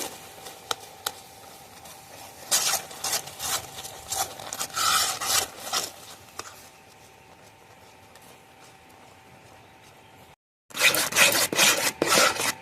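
A spatula stirs and scrapes milk and flour into a dough in a pan, giving uneven rubbing and scraping strokes in bursts, then a brief pause and a final loud flurry of scraping.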